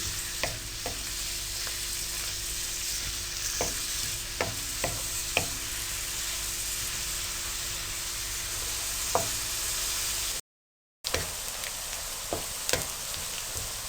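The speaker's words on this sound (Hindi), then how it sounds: "और इसको हल्का ब्राउन कलर आने तक फ्राई करें।" Onions fry in a pan until lightly browned, giving a continuous soft sizzle with occasional scraping stirs and clicks of a spatula, steady and close, with a brief gap of silence near the end.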